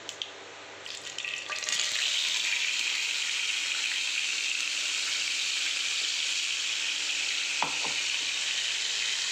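Tomato puree for palak paneer hits hot tempering in a pan on a lowered gas flame, bursting into a loud, continuous sizzle that holds steady for several seconds, with a brief clatter near the end and no talk.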